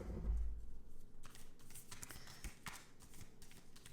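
Tarot archetype cards from a deck being shuffled, a steady run of soft papery riffles and taps close up, with no talking.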